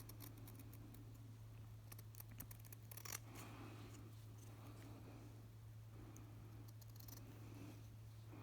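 Large scissors snip through fabric during a hand-stitching project, a series of soft crisp cuts near and quiet, with a few louder snips clustered around the middle and end and a steady low hum underneath.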